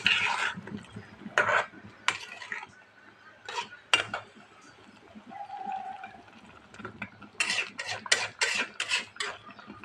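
Fried red lentil fritters and two eggs go into a finished curry in a pot, making scattered bursts of metallic clinks, scrapes and soft wet plops separated by quiet pauses.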